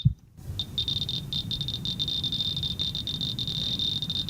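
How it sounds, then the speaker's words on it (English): Rapid, dense crackling clicks from a Geiger counter held near radioactive Fiestaware run steadily after a brief silent start, a continuous buzzy ticking with low rumble beneath it. "this is a Geiger counter, so you're going to see the problem, or hear the problem"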